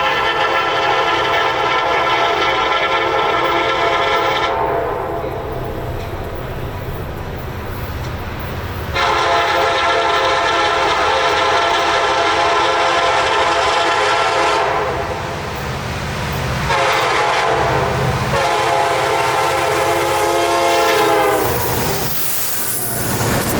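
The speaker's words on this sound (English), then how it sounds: "all the sensations of the train at track speed" A CSX freight train led by SD70 locomotives passes at track speed through a pine tree tunnel near the Satilla River, its loud roaring engines and wheel rumble swelling and fading, with a sustained horn blast mixed in.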